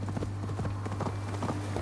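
Horse hooves clip-clop at a brisk, steady gallop in the Viking-era video game Assassin's Creed Valhalla, with close, rhythmic beats over a constant low game hum.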